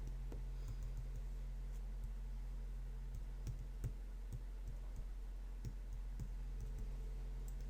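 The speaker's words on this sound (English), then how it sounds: "my Mac is very clicky when I type on it, but this keyboard is not" Soft, quiet keystrokes on a low-noise computer keyboard, tapping in an irregular rhythm of separate clicks over a steady low hum, close by with no talking.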